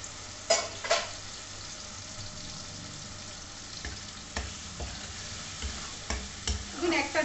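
Spice paste sizzles in a pan of green bean tadka dal, a steady frying hiss broken by sharp clinks and scrapes of a spoon stirring, growing busier toward the end.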